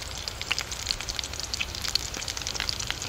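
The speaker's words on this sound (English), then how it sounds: "Apart from the noise of the frying and the bird song." Steady crackling sizzle of food frying on a Trangia camping stove in Scottish pine woodland, a dense patter of pops with faint high birdsong chirps in the background and no talking.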